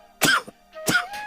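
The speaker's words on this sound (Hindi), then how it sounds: "खांसते रहे।" An old man coughs twice in rough, throaty bursts, close and alone.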